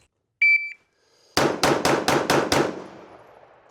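Six rapid Glock 19 pistol shots at an outdoor range crack out in an even, quick string after the shot timer's start beep, each report loud and sharp with a ringing decay trailing after the last.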